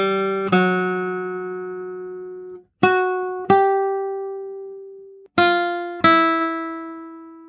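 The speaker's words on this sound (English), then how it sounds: "Half steps are defined as moving from one note to the immediate adjacent note in either direction, up or down" Single sustained notes ring out one after another, each moving by a half step up or down, six clear plucked tones with long decays and brief silences between some of them.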